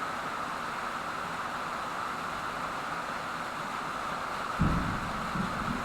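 A distant storm: a constant wash of rain-like noise with a brief, deep thunder rumble swelling up near the end, far off and muffled, no voices.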